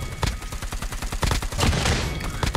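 Rapid ICR-1 assault rifle bursts in Call of Duty Mobile, a dense string of close, punchy shots in quick succession with short gaps between bursts.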